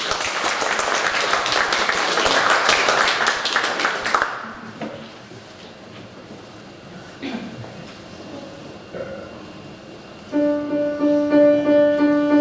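An audience at a Luunja choir concert breaks into loud, steady applause after a song. The clapping stops abruptly, followed by a few quiet thuds, then a voice speaks over a sustained tone.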